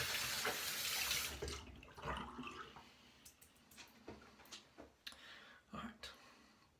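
Tap water runs into a sink as fingers are rinsed under it, a steady wash with splashes and light clinks, faint and close, with a voice speaking at times.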